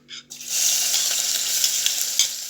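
Grated onion hits hot oil in a cooking pot after a short knock, then a loud, steady sizzle runs on with faint crackles.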